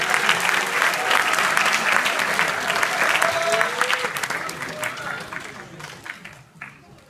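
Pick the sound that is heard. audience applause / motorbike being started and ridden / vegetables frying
audience applause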